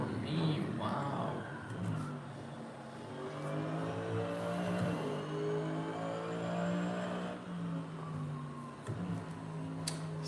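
GT3 race car engine in the Assetto Corsa racing game, a rising and falling whine of revs through gear shifts over a lap, moderately quiet, with occasional brief clicks and no talk heard.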